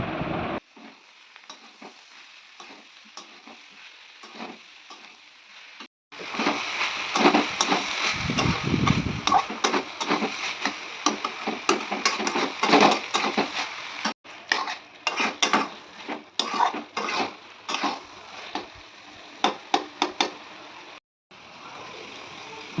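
Cabbage with tomato, green chili and crushed ginger is stirred in a pan in a Bengali home kitchen, with repeated scraping, clinking utensil strokes over a steady sizzle, close and fairly loud throughout.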